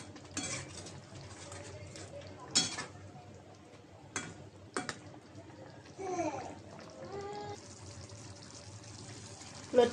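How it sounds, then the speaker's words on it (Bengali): Loitta fish curry simmers at a boil in a pot while a spoon stirs it gently, giving soft scraping, clinking and liquid sloshing with occasional louder knocks against the pot, close and fairly quiet. "মাছটা বলক এসেছে, একটু হালকাভাবে নাড়াচাড়া দিয়ে দিই।"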